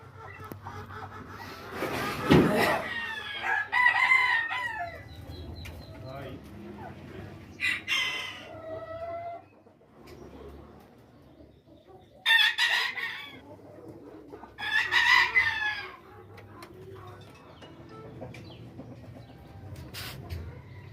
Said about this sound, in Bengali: বিশ্বের বিভিন্ন জাতের শৌখিন মুরগি আছে